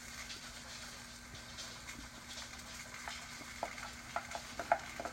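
Whisked eggs going into a buttered frying pan, a soft steady sizzle with light crackles that pick up toward the end, near and fairly quiet.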